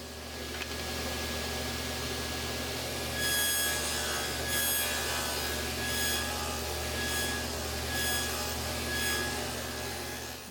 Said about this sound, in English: I'm going to do it on a table saw by tilting the blade to 30 degrees